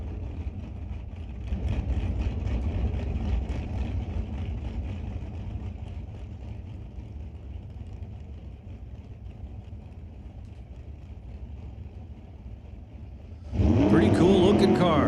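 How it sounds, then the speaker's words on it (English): Baby blue 1957 Chevy roadster race car at a drag strip, a steady engine drone humming beneath a track announcer, then a loud harsh burst of revving near the end. "That baby blue 57 Chevy Roadster."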